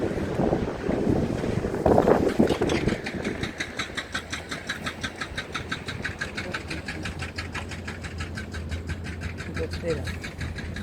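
Strong gusty coastal wind on the road from Gijón to Salinas buffets the microphone at first, then settles into a rushing roar under a rapid mechanical flutter.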